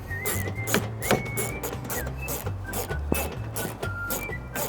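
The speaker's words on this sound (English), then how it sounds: "Now I'm gonna put in the screws. Take my 7mm." Screws being driven with a 7mm driver into factory mud flaps on a Ford Maverick: repeated short, whirring motor bursts rising and falling in pitch, close and fairly loud, with brief pauses between runs.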